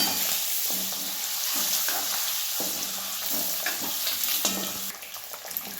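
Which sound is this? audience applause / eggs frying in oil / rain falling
eggs frying in oil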